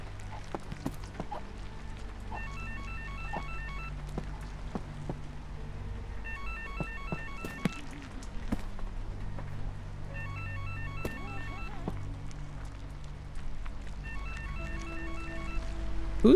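Electronic phone ringtone in the video game Holstin, sounding in four repeated bursts of rapid trilling rings over a steady low ambient game drone, with no talking.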